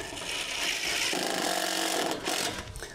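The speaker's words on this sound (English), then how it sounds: "And I'm not even drilling this all the way in." A power drill whirs in short bursts, its motor pitch rising and falling as it drives screws into wood while building a fence, close and fairly loud with no talking.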